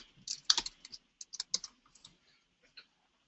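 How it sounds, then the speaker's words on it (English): Fast typing on a computer keyboard during a programming lecture, a quick burst of sharp clustered key clicks followed by a few sparse taps, close and fairly quiet. "I might be typing fast"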